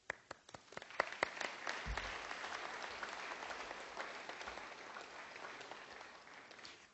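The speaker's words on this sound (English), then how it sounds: "please join me in one final round of applause" Scattered claps quickly swell into sustained applause from an audience, continuing steadily and fairly evenly at a moderate distance.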